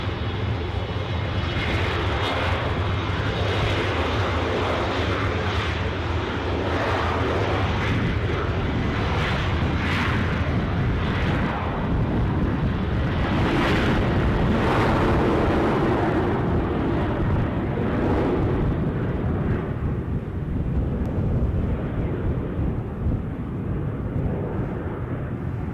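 Fixed-wing airliner taking off at Edinburgh airport, its engines roaring loud and steady throughout, a broad rumble that swells toward the middle as the aircraft powers away, with no voices over it.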